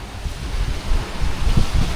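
Strong wind and breaking ocean waves buffet a boat during an Atlantic crossing, a steady broad roar with low rumbling surges and no voices.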